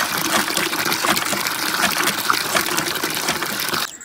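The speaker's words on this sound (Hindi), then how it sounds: "दो बाल्टियाँ मैंने वो वहाँ पर रख दी हुई हैं, जाके नल से पानी भरते हैं" Water gushes steadily from a tap into buckets, a loud continuous rushing splash that runs unbroken and cuts off just before the end.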